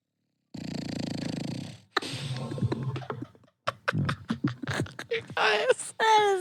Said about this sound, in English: you should bring your mic down and put it like right next to Stevie's snore.